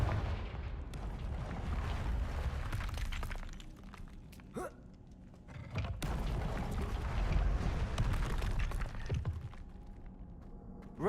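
Confringo fire spell blasts in Hogwarts Legacy, several booming explosive bursts with crackling, shattering tails over a dense rumbling game background.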